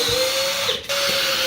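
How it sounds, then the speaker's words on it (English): A power drill drives screws into hardwood floor joists during a kitchen renovation, a steady high motor whine running continuously and loud, dipping briefly near the middle as the bit bites, with no talking. "That hardwood, those floor joists are that hard we couldn't nail it. We have to screw them."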